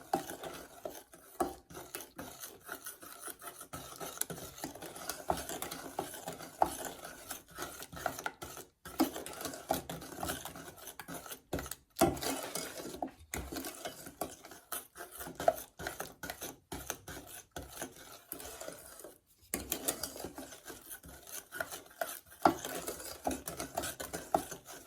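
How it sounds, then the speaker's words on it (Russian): Honey cake batter being stirred in a bowl until the baking soda dissolves, a long stretch of continuous close scraping and tapping with brief pauses, moderately quiet and without speech. "Все перемешиваем до тех пор, пока полностью сода не растворится."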